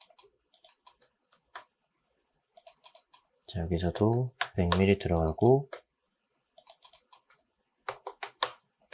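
Computer keyboard shortcut keys are tapped during SketchUp drafting work: scattered light, sharp clicks arrive in short bursts, faint and close, before and after someone speaks briefly in the middle.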